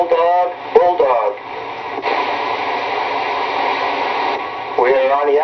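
A Uniden 980 SSB CB radio transmits with its echo effect on, a steady hiss of static carrying repeated, echoing speech that sits loud and close throughout.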